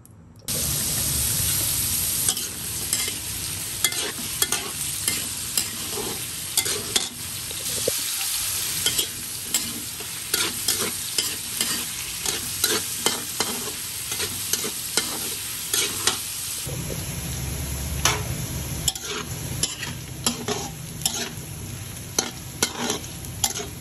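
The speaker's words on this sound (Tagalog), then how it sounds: "So, magpiprito muna ako ng mga vegetables." Vegetables frying in a pan for pork menudo, a loud continuous sizzle broken by repeated scraping strokes of a spatula stirring them, close up with no talk.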